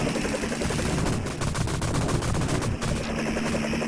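Dense, continuous machine-gun and cannon fire from an aircraft in an arcade shooter, loud and rapid with overlapping bursts and explosions, no voices.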